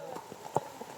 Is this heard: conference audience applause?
no